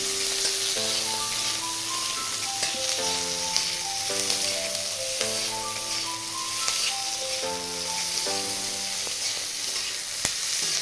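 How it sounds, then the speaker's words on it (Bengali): Chopped onions fry in a pan with a steady, bright sizzle that runs the whole time beneath louder melodic background music. "পেঁয়াজটাকে ভালো করে ভেজে নেব।"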